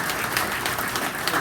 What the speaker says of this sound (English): everybody here that volunteers just deserves a round of applause